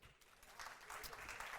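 An audience at a Christian talk breaks into applause, the clapping swelling after a brief quiet start into a soft, steady patter.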